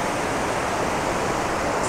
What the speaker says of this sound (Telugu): ఎంత ఫాస్ట్గా వెళ్తున్నాయి చూడండి వాటర్.